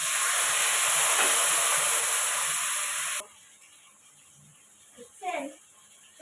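Pabda fish fries in a hot pan, a loud dense sizzle and hiss that cuts off abruptly midway, leaving quiet with a few faint voice sounds afterward.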